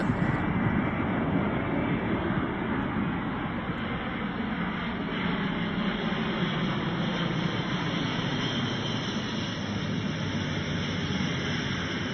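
A four-engine jet aircraft carrying the US presidential car roars steadily and loudly, a broad rushing hiss with a thin high whine on top, unbroken from start to finish.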